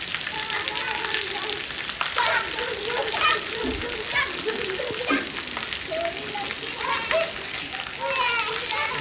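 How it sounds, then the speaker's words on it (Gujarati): Steady heavy monsoon rain pattering and hissing on surfaces in Dhansura, Gujarat, with voices and children's calls mixed in throughout. "વરસાદ ચાલુ થઈ ગયો છે પડવાનો ભાઈ."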